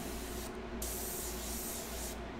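Airbrush spraying paint on a portrait at raised air pressure, a steady close hiss that runs throughout with a brief dip and surge partway.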